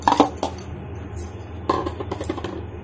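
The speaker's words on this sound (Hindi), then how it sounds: "इसको भी अच्छे से मिक्स कर लेते हैं।" Poha is stirred into grated potato in a bowl, with scattered clinks and scraping clatters of a spoon against the dish, one cluster near the start and another midway, alone without talk.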